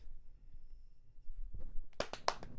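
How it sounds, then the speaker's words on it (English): A few sharp hand claps near the end, preceded by low murmuring room sound and a brief voice; the claps are close, loud and irregular, a short burst rather than sustained applause. "That's how we be clapping."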